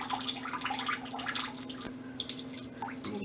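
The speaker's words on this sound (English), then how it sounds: "let all the excess water come out until it's just dripping." Excess water drips out of a soaked rooting medium for a tree cutting, irregular small drops pattering close by over a faint steady hum, with no talking.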